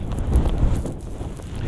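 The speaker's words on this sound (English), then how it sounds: "it's a very windy area right here, so sorry about the wind noise" Wind buffets a handheld microphone at Coney Island in New York on a windy, lightly snowy day, a loud continuous low rumble with gusty thumps throughout.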